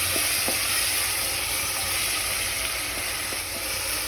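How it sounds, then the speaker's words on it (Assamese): Chopped tomatoes for masoor dal fry in a pan with a constant close hiss and sizzle, dotted with a few soft clicks and pops of stirring. "কুটি লোৱা বিলাহীখিনি পেলাই দিছোঁ।"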